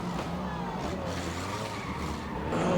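A race car spins out on a speedway, tires skidding loudly against steady engine roar, with the skid swelling toward the end.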